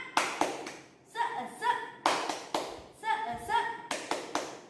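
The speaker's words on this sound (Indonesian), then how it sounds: "Kita sama-sama tepuk semangat ya" Children at a Sunday school session clap the 'tepuk semangat' spirit clap in sharp, rhythmic bursts of claps close by, with young voices chanting between the clap groups.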